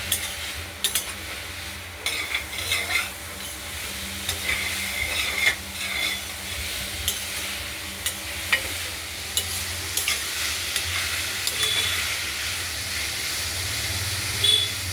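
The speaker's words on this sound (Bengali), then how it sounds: "হলুদ দিয়ে নাড়াচাড়া করে দিতে দেবো" Chopped bhadali with turmeric sizzles steadily in a hot pan while a spatula stirs and scrapes through it, a constant frying hiss with intermittent scraping, no talking.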